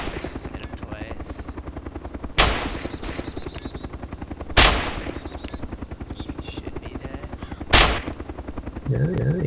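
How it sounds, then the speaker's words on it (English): Three sharp, loud gunshots ring out at irregular intervals in Arma 2: DayZ Overpoch, fired at a player behind a hangar, over a steady droning engine hum. "Oh, there's a guy behind the hangar. Taking shots at him."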